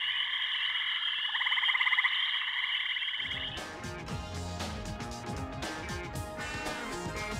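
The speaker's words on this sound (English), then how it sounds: "We're then eased into the sounds of an image of a tree frog." A tree frog from the video game The Silver Case croaks in repeated rapid trills for about three seconds, then gives way to a busier, denser stretch of sound.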